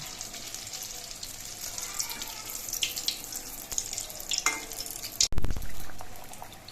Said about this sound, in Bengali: একসঙ্গে দুটো দিলে পরে জোড়া লেগে যেতে পারে এই জন্য একটা করে আমি ভাজবো